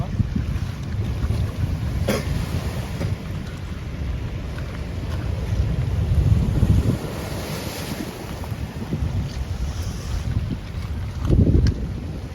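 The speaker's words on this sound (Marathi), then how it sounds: "किती मोठ्या प्रमाणामध्ये लाटा एकावर एक मोठ्या प्रमाणामध्ये मुसळधार इथे फुटत आहेत" Big sea waves surge and crash along the shore at Satpati village, a loud continuous roar of surf with heavy wind noise buffeting the microphone and a few stronger swells rising above the rumble.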